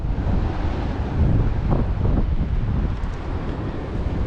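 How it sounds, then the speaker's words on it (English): Waves wash onto Flins Beach under heavy wind buffeting the microphone, a constant loud rumbling roar with surf surging in the background and no voices. "So this is Flins Beach."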